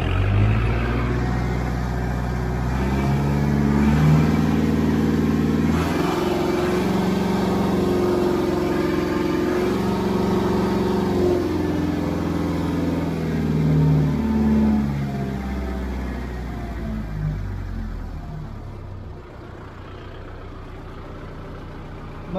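A tractor engine, close by, running with a low rumbling hum that shifts in pitch as the rpm is raised from idle, then eases off toward the end.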